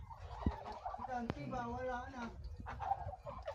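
Several ducks quack and honk in short bursts, with people chatting over them and a sharp thump partway through.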